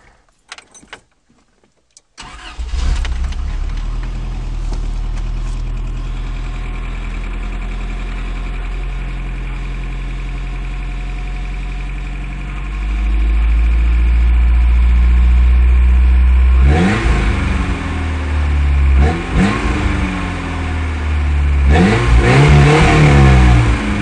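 A car with a Flowmaster Super 44 on a cut exhaust ahead of the rear axle cranks, fires and settles into a deep, loud idle, then gets several sharp revs near the end.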